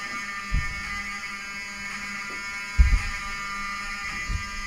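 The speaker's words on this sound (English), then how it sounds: "I want them to hear the fire alarm" Hotel fire alarm blaring as a steady buzzing electronic tone, continuous and fairly loud, with occasional thumps and bumps nearby and no talk.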